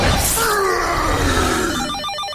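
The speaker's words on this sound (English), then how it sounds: "That's just a phone, Hulk" Telephone ringing in a superhero cartoon, a loud warbling electronic ring over a dense music-and-effects bed, tapering into rapid trilling pulses as it fades.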